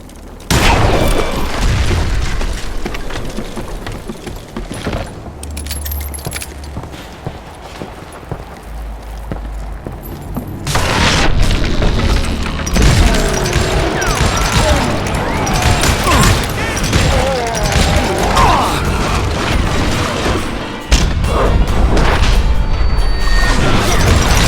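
A footbridge crashes down after its rope is shot in the Call of Juarez: Gunslinger video game, a loud booming impact and crash among layered game sound effects and music, with a second heavy burst near the end.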